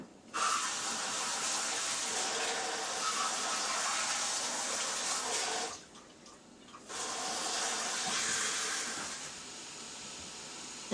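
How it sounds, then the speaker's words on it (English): Sugared water heating in a pot on a stovetop for homemade hummingbird food gives a steady broadband hiss of steam, briefly dipping near the middle before resuming, with no talking. "Alright, it's starting to steam, so put the sugar in there."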